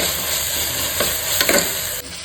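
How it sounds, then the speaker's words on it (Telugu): Onions frying in a pan with ginger garlic paste for an Andhra-style paneer pulao, a steady loud sizzle with a few scraping stirs of a spoon partway through, no voices. "కొంచెం సేపు బాగా పట్టినంత వరకు ఆనియన్స్ మగ్గనిద్దాం"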